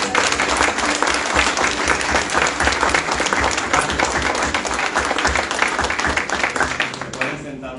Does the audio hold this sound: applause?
yes